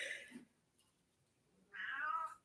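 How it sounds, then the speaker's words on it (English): A house cat meows twice indoors, a short call at the start and a longer, clear meow near the end, with quiet room tone between. "if you hear a meow, that's my cat."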